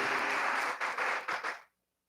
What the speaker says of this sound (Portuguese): Aplauda mesmo ao Senhor.